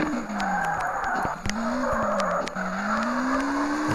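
A car drifting in the video game CarX Drift Racing 2, with a continuous loud tire squeal and skid over a revving engine whose pitch rises and dips, heard alone.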